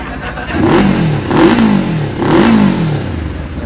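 A two-cylinder motorcycle engine revs up three times in quick succession, loud and close, each rev rising and falling with a throbbing mechanical growl.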